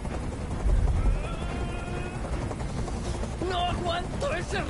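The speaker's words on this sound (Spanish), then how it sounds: "¡Dile a ese helicóptero que se vaya de aquí!" A helicopter hovers overhead in the video game Detroit, a steady low rotor drone filling the background while someone shouts over it.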